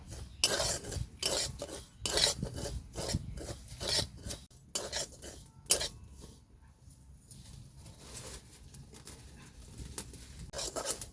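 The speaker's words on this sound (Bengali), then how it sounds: "এই সুজিটা আমি লাল করে ভাজবো" Semolina being dry-fried and stirred in a pan, with repeated scraping and rasping strokes of a spoon against the pan in an irregular rhythm, close and moderately quiet, separated by short pauses.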